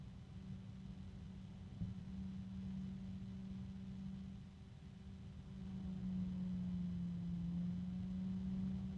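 A Noctua NF-A12x25 computer cooling fan runs at maximum RPM, giving a steady, close whooshing hum with a sustained low tonal drone that grows slightly louder partway through, with no voices.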